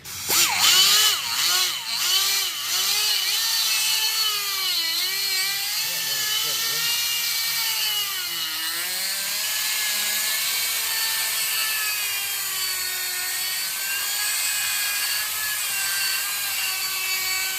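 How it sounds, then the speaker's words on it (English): A power drill bores out a metal washer, whining with shifting pitch that rises and falls as the bit cuts and bogs, steady and fairly close, with people talking over it. "All right, we got the washer drilled out."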